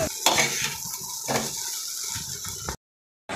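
Drained chicken chowmein noodles are stirred in a wok with continuous clattering and scraping of utensil against metal, sizzling underneath, stopping abruptly near the end.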